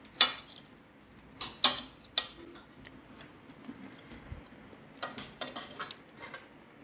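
Cutlery clinks sharply against a plate in sparse, separate taps and scrapes while a potato dish is tasted, close and otherwise quiet.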